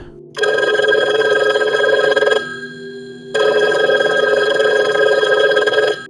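A telephone ringing loudly and close, two long electronic rings separated by a brief pause, with nothing else heard.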